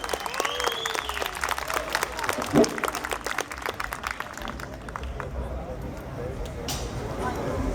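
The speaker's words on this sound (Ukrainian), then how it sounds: "Аплодисменти музикантам." Concert audience at the Atlas Weekend 2017 festival applauding the musicians, a dense wash of clapping and crowd noise that fades to a softer, distant patter.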